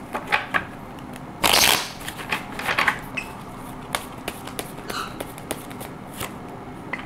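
Tarot cards are shuffled up close: scattered soft riffles and slides, one dense burst of flicking near the middle, then lighter taps and card handling, no talk.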